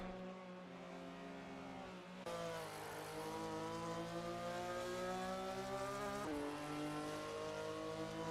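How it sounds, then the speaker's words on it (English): Onboard Porsche race car engine in a racing simulator game at Goodwood, a steady loud drone with sustained revving harmonics that shift pitch with gear changes, up close and continuous with no talk. "Some onboard action there from Johnny, battling to keep that Porsche straight."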